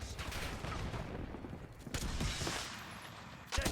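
Gunfire in the shooter video game Call of Duty Black Ops 6: a dense, fairly loud stretch of rapid automatic shots with a few sharper bangs, no voice over it.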